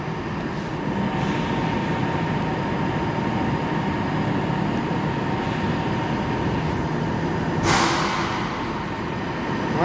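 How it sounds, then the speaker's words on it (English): The motor of an automatic high-speed PVC mixer runs in a loud, steady mechanical roar with a constant whining hum, unbroken throughout and without talk. "This is switching on the motor. Now the motor is on."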